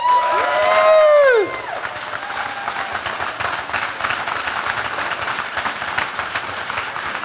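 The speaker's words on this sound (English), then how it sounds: "I see over here the women are clapping stronger" Audience at an award ceremony cheering and clapping: a loud rising whoop opens, then steady dense applause with scattered shouts continues to the end.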